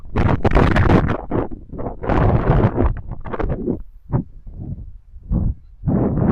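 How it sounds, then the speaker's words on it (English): Strong outdoor wind buffets the microphone in heavy, uneven gusts, roaring loudly and dropping away between blasts, with no talking heard. "This wind is awful."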